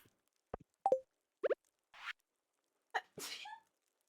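A few short, sharp sneezes in a quiet room, separated by brief pauses, close and fairly loud.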